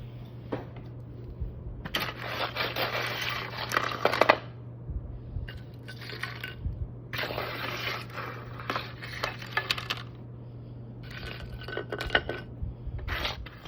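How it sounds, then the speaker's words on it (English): Tortilla chips are scraped with a spatula onto a plate, making repeated crisp rustling and clattering bursts separated by short pauses over a low steady hum. "I'm gonna take a spatula and I'm gonna put my chips onto a plate"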